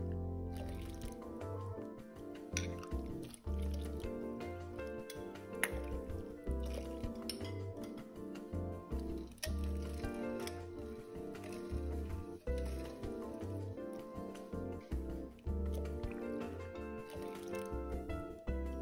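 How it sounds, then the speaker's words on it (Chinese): Agar-agar jelly mixture being stirred in a bowl of lemongrass water, with soft wet squishing, drips and occasional light clinks of utensil on the bowl in an even, repeated rhythm throughout. "然后再拌匀。 将碗底的也过一过。"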